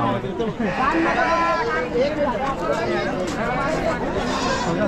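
Sheep and goats bleat over and over at a busy livestock market in Chakan, Maharashtra, the calls overlapping at varied pitches against a steady murmur of crowd chatter.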